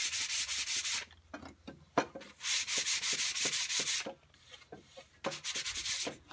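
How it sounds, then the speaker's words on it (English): Sandpaper rubbed by hand over a wooden kitchen box, rhythmic back-and-forth scratching strokes in several bursts with short pauses, close and clear with no talk. "Sandpaper is very strong and powerful, and it does the job pretty quickly."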